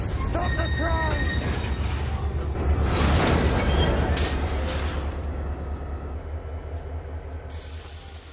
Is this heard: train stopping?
yes